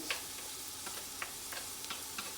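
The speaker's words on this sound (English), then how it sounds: "I'm gonna give it a little stir." Red onions frying in a big pot give a soft, steady sizzle with faint, regular clicks of a spoon stirring, quiet and without talk.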